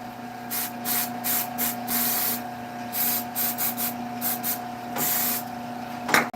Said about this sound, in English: We're gonna spray it with some accelerator.